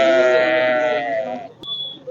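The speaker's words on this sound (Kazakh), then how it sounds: "Қозлы қойлар" At a livestock market in Zharkent, a sheep gives one long, loud, wavering bleat close by, followed by a short high tone and faint background noise.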